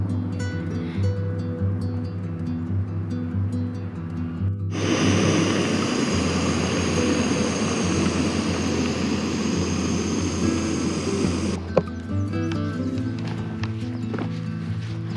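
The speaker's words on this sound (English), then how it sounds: "biplane air tractor about to spray" A biplane Air Tractor crop-spraying aircraft flies over large fields along Oregon's Willamette River, its propeller engine swelling into a loud, broad roar for several seconds before cutting back to quieter background.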